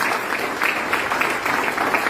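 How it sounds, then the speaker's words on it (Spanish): A church congregation claps together in steady, dense applause, fairly loud and close, with no talking over it, sustained evenly throughout. "Quiero dar un aplauso al Señor"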